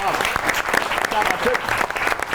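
Enthusiastic applause from a studio audience on a Pakistani comedy talk show, a dense, loud burst of clapping sustained throughout the short stretch.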